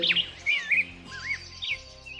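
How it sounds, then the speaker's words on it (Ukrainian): Close starling song with varied chirps, whistles and warbling trills in quick succession over a low background hum. "різноголосі дзвінко, на всі лади виспівують шпаки"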